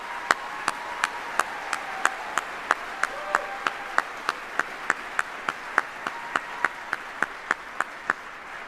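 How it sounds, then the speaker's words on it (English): Audience applause for retiring soldiers at an Army retirement ceremony: evenly spaced, sharp claps ring out close and steady over a softer bed of crowd clapping, continuing throughout. "please, again, a round of applause for these 36 incredible soldiers."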